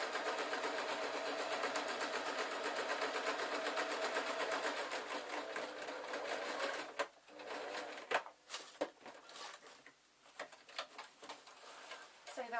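Sewing machine stitching a canvas denim-style skirt seam, running in a fast steady whir for about seven seconds, then stopping and starting in short uneven bursts; fairly quiet and close, with no talking.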